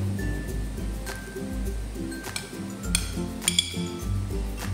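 Fish and eggplant go into a pot of sinigang (lapu-lapu soup), giving a few clinks and utensil knocks against cookware over a steady low rumble, with bright metallic taps near the end.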